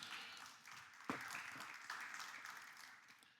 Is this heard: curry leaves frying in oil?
no